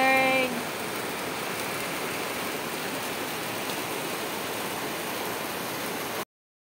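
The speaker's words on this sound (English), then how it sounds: "It's raining!" Rain pours in a steady, even wash of hiss, moderately loud and unbroken, with a brief tonal sound at the very start before cutting off abruptly.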